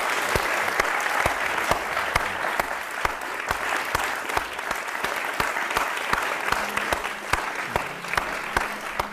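A lecture audience claps steadily for several seconds, a dense even patter of many hands filling the room at a constant level, no voices over it.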